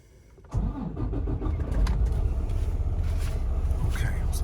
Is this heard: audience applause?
no